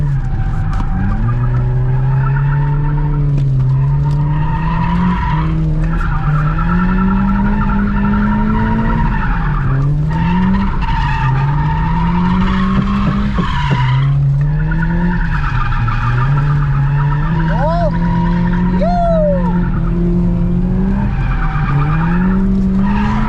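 A 450hp big turbo Volvo wagon drifting, its engine droning and rising and falling in long sweeps while tires squeal and skid steadily, close and loud throughout.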